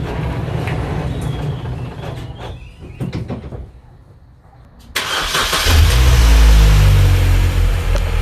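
A salvaged Mini Cooper R52 cranks briefly and then catches, its engine settling into a loud, steady idle that runs on continuously close by.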